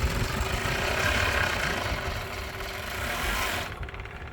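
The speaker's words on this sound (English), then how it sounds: "we just overlock this one edge" An overlocker serger runs along the edge of a handbag strap, giving a steady buzzing, rattling motor hum that cuts off abruptly near the end.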